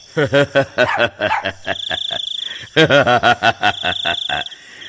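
A cartoon dog barks and yelps in quick repeated bursts, loud and close, with short whimpering cries between the barks and a brief pause in the middle.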